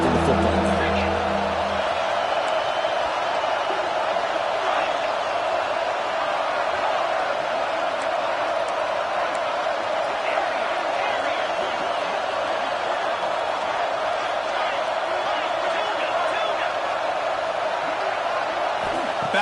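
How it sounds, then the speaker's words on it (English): Home crowd at an LSU vs Utah college football game roars loudly and continuously, a dense sustained wall of cheering that stays steady throughout with no clear breaks. "how nice is it to have the home crowd going absolutely bananas?"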